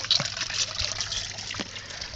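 Water pours and trickles out of a canvas Millbank bag, the British Forces water filter, in a short, soft stream outdoors. A few faint splashes come through, with no talk.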